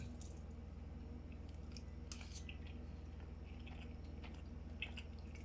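Someone chews a mouthful of homemade cheesy lasagna up close and quietly, with soft wet squishes and faint clicks over a low steady hum.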